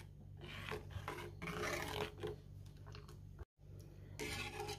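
A spoon scrapes and stirs jaggery into date (kharik) milk kheer in a pot, off the heat, making steady rasping strokes close up with a brief pause near the end.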